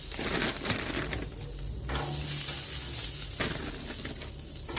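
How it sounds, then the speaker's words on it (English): Frozen French fries dropped into hot oil on a Blackstone griddle with two burners lit, giving a loud, close, steady sizzle with crackling and scraping throughout. "And now I'm going to add my frozen French fries."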